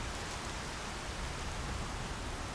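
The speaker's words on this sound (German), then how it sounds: "Der Regen ist viel zu laut, als dass man etwas hören könnte." Heavy rain in the video game Horizon Zero Dawn pours as a dense, steady hiss, continuous and even throughout with no other sounds standing out.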